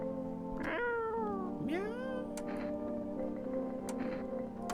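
A cat meows in the video game No, I'm Not a Human, with two or three rising, wavering cries over a steady droning musical background and no talking.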